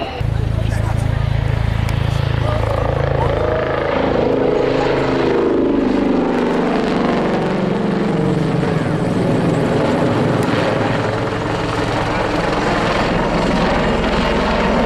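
Royal Navy Westland Lynx helicopter flying at the Waddington air display, a loud sustained rotor and engine drone that shifts in pitch as it passes, with a commentator talking over it.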